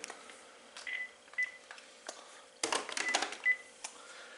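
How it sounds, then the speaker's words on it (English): Panasonic KX-TG5243 cordless phone handsets trading intercom tones, a handful of short electronic beeps and clicks, sparse and fairly close, followed by a busier burst of handling noise and chirps. "Testing out the intercom feature on the third handset"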